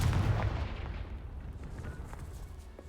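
A Confringo spell explosion in a Harry Potter video game: one heavy boom that hits hard at the start and rumbles away over a few seconds.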